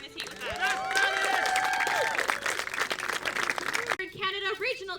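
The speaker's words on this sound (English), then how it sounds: "Let's give a round of applause for them" Outdoor audience applause at the IQA Pan American Games 2019, steady clapping with cheers and a whistle over a busy crowd, cutting off near the end as a voice speaks over it.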